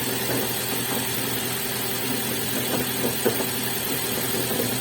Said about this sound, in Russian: Шум идет вроде бы от маховика.